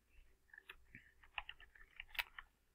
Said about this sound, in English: So let's go ahead and type